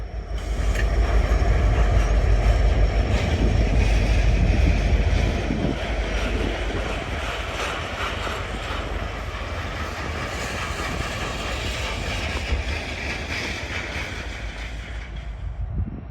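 Freight train carrying a multi-ton Siemens electrical generator as a high and wide load rumbles past nearby, a continuous heavy roar of wheels and cars with faint rhythmic clicking and a slight squeal, easing off slightly as it continues.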